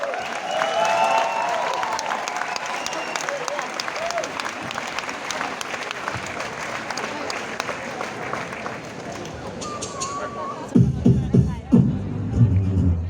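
A crowd at a live drum, band and beatbox show in Budapest applauds the beatboxers in a dense, steady wash of clapping that runs loud for about ten seconds, then cuts off into lower, sparser sounds.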